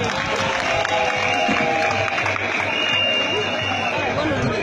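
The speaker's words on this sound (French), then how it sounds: "Applaudissez-vous s'il vous plaît." An audience at a public address in a crowded hall applauds in a dense, continuous wash of sound, mixed with crowd chatter and voices throughout.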